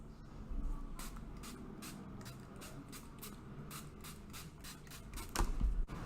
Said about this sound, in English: we're going to go ahead and spray our face and set it to perfection